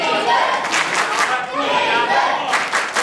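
A wrestling event audience claps and cheers in a dense, continuous roar of applause, loud and close, with an announcer's voice over it.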